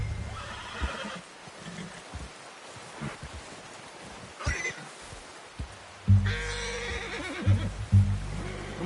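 A horse whinnies and snorts in a video game, with hoofbeats and rustling outdoors, louder bursts coming toward the end over low background music.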